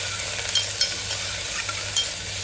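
Onion and capsicum frying in ghee with cumin, cloves, cinnamon and bay leaf, a steady close sizzle with a constant low hum and occasional light stirring clicks.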